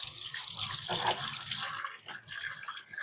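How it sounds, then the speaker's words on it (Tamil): Tap water runs and splashes in a sink as raw bananas and brinjals are washed, a fairly soft, close gush with shifting splashes as the vegetables are handled. "இப்போ வாழைக்காவும் கத்திரிக்காயும் கழுவி எடுத்துக்கலாங்க."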